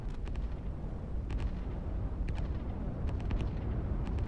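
Rocket strike in the strategy video game Line War, heard as a steady rumbling barrage with repeated sharp bursts and pops spread through the clip, loud and without talk.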